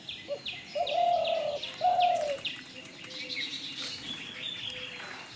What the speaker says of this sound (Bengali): ঘুঘু পাখিগুলো উড়ে যাচ্ছে